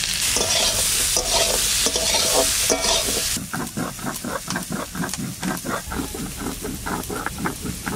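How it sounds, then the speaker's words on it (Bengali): Cauliflower frying with salt and turmeric in oil left from frying fish: a loud, steady sizzle at first, then a rhythmic series of stirring scrapes and crackles in the pan. "লবণ আর হলুদ দিয়ে একটু ভেজে নিচ্ছি।"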